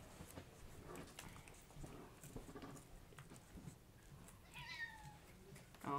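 A faint cat meow rises briefly near the end over quiet room noise, with soft tapping and shuffling sounds before it.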